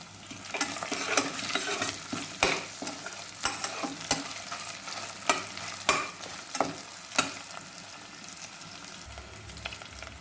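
Small onions frying in a pressure cooker for pulao crackle with a constant sizzle, punctuated by repeated sharp scrapes and taps of a spoon stirring against the metal pot at a loose, irregular pace.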